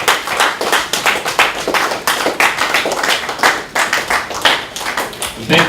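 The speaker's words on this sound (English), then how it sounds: "Please keep it going." A crowd at an inaugural civic meeting in Lagos keeps clapping, a sustained, fairly loud patter of many hands with slight rhythmic surges throughout, carrying on without pause.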